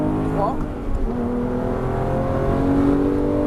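A Porsche GT3 accelerates on the Nogaro race track, its engine note climbing steadily from inside the car with a brief change around the shift, loud and continuous under an instructor's voice.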